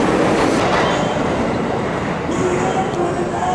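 A train rumbles past on the railway right beside a station-side satay kikil food stall, a loud continuous clatter of wheels and carriages with faint squeals and background voices.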